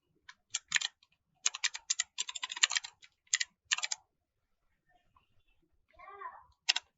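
Bursts of computer keyboard typing while writing code, a run of quick key clicks arriving in short clusters, followed by a brief quiet stretch and a faint murmur before a final burst.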